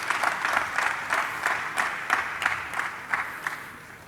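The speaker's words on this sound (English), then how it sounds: "Can we put our hands together for them as they exit the stage?" An audience at a cryptocurrency conference applauds, a steady burst of crowd clapping with rhythmic swells that carries on for several seconds.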